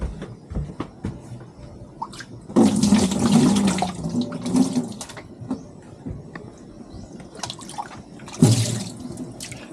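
Water runs from a tap in irregular spurts, splashing loudly for a couple of seconds, easing to quieter trickles and drips, then gushing again briefly near the end.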